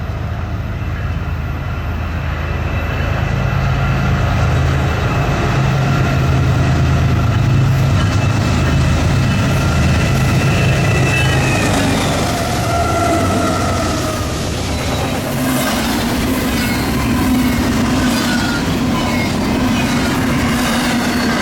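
Norfolk Southern freight train NS29P, hauled by standard Norfolk Southern locomotives, passes loud and close on the NS Chicago Line. A continuous heavy rumble of rolling cars and wheel clatter lasts throughout, with no talk.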